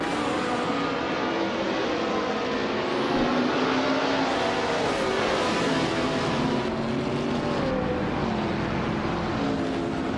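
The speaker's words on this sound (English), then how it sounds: "The race kicks off at Magni Cours and TTV Ricky Sanz is starting on pole in a classic 2000 Ferrari F333" Racing engines roar steadily at the start of a race at Magny-Cours in a racing video game, with a classic 2000 Ferrari F333 on pole; a dense, sustained drone with a rising whine partway through, loud and continuous with no voices.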